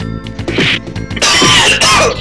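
A single sharp cough from a gamer playing Battletoads & Double Dragon, close and loud, mixed with busy game music and sound effects.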